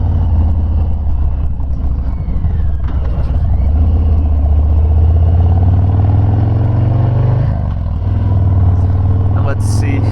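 A 2019 Harley-Davidson FXDR with a Milwaukee-Eight V-twin rumbles steadily and loudly at speed on the road, its deep drone holding throughout with a brief shift near the end.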